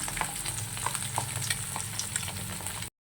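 Steady crackling sizzle of fish frying in hot oil, with scattered pops and spits throughout, fairly quiet and close, then abrupt silence.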